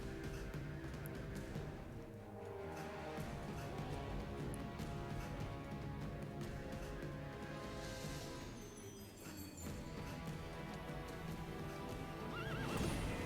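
Horses neigh and hooves clip-clop in a Heroes of Might & Magic 5 battle, set against a dense, continuous game soundtrack that stays loud throughout, with the whinnies rising over the mix.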